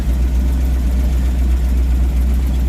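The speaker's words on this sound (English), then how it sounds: "Engine works though." Engine of a Simca Marmon 4x4 truck running at a steady idle, a loud, low, continuous rumble close by with no other sounds.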